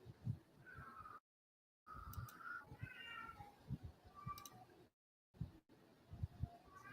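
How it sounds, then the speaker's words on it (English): Several house cats meow and yowl in a series of short, rising cries amid faint background noise, with a few brief silent gaps between them. "I can hear my cats having fits."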